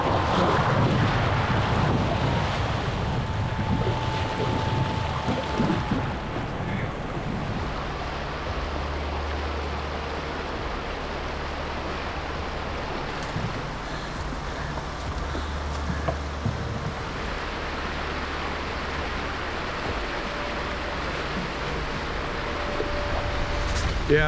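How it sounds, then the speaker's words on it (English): A river rapid and waterfall in the Yukon wilderness rush with a steady broadband roar of water that continues throughout, with wind buffeting the microphone and a faint low rumble. "so this is the waterfall"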